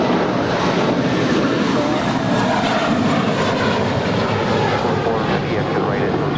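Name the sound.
United plane taking off from LAX runway 25 right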